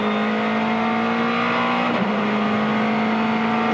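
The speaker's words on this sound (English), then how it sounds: "It's a great noise too. High revving V8," High-revving V8 race car engine at the Bathurst 12 Hour, a loud, close, sustained whine holding steady pitch with a brief dip mid-way.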